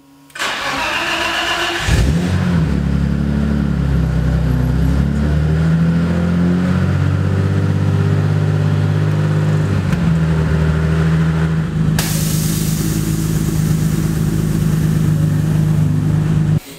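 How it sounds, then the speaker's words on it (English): A BMW E30 engine cranks briefly, catches and settles into a steady, loud, close idle with a low rumble that lasts to the end, with no talking. "I should be able to fire the car up and then let her run for about 10 minutes"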